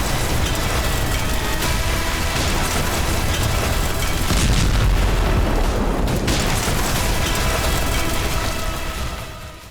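Hamas rocket explosions over Rishon LeZion, Israel, come as a sustained, loud, roaring wash of booming noise with a heavy low rumble and swelling blasts, fading at the very end.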